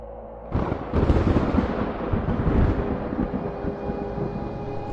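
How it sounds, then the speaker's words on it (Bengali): A deep, rolling rumble of thunder from a gathering storm with dark clouds, swelling in loud and low after a quiet half second, then grumbling on steadily to the end, with no voices. "মেঘের গর্জন।"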